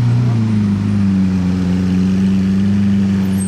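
A Lamborghini Aventador engine gives off a steady, deep droning hum at close range, holding an even pitch with no talking over it.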